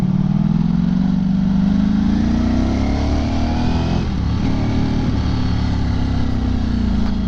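A Ducati motorcycle engine revs loud and close, its deep throbbing note climbing steadily and then dipping and rising again, with no talk over it.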